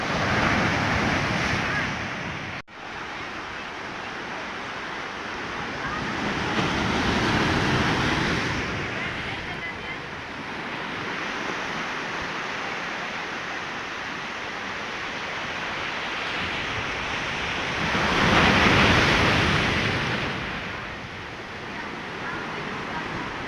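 Sea waves break along the shore at St. Angelo Fort in Kannur, Kerala, in a broad, continuous wash of surf with wind buffeting the microphone, swelling in slow surges, while a person talks intermittently over it.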